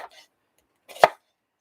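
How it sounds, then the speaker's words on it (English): A knife chops food once during kitchen prep for Boston baked beans: one sharp, close thud on the board, preceded by a softer brief rustle and followed by silence. "as we get down to a little bit of chopping here"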